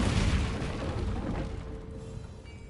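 An Incendio fire spell cast in the Hogwarts Legacy video game, a single loud fiery whoosh-boom that bursts at once and then fades over a couple of seconds.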